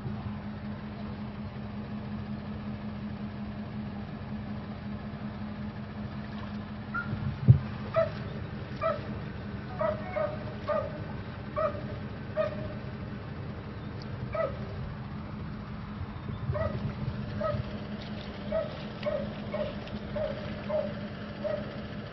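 Rescued puppy from Florida floodwater, infested with fire ants, whimpering and giving short yips and barks in a repeated series over a steady engine hum, with voices faint in the background.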